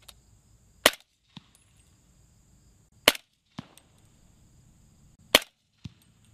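Three sharp, isolated gunshots from Fiocchi 220 subsonic rounds fired into a dirt berm, evenly spaced about two seconds apart, each followed by a faint thud, with near silence between.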